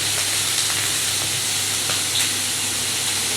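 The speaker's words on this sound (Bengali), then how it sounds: "পেঁয়াজটা আর গার্লিকটা লাল হয়ে আসার পর মাশরুমটা দিয়ে দিল" Mushrooms sizzling in a pan with browned onion and garlic for garlic mushrooms, a steady close frying hiss with faint crackles throughout and no talking.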